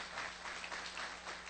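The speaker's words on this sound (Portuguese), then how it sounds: "Pode aplaudir, irmão, pode aplaudir." A church congregation applauds, a dense, even patter of many hands that sounds distant and soft, lasting a short moment without pause.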